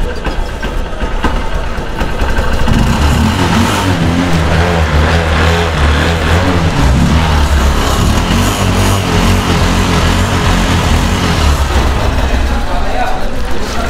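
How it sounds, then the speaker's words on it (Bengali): A used Honda CB Trigger motorcycle engine runs at close range, a loud, steady mechanical drone that holds the same level for the whole stretch with no clear gaps. "হচ্ছে ইঞ্জিনের সাউন্ড"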